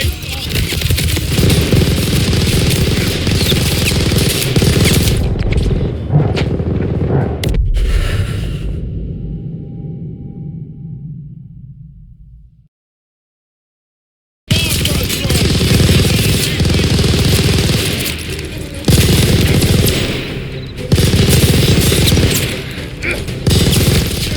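Heavy machine gun fire in the World War II Call of Duty Vanguard campaign mission Operation Tonga, loud sustained bursts with booms, then a fade to silence before the rattling fire resumes, with shouted voices at times.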